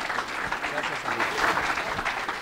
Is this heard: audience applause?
yes